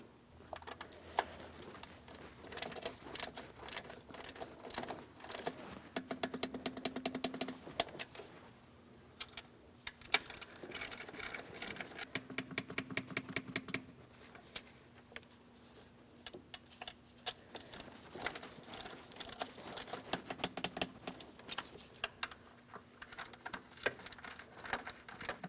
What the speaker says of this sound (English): Let's go ahead and torque these in that sequence to 89 inch-pounds the first time around.